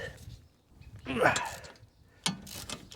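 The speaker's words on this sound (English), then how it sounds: "Electric ratchet." An electric ratchet removes the back bolts on a 2009-2017 Audi Q5 front wheel bearing job, giving two close, short whirring bursts with a quiet pause between them.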